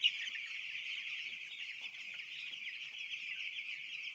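Eight-day-old chicks massed together on a poultry farm give a dense, continuous high-pitched peeping chorus, steady and close, with no talk.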